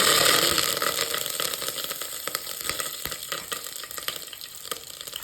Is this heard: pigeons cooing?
no